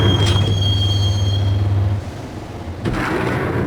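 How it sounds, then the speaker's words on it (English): Train interior in the Max Payne video game: loud continuous rumble of a moving carriage with a steady low drone and a high whining tone that cuts out, then a brief metallic clank. "the train doors had already shut behind me, and I was in for the ride"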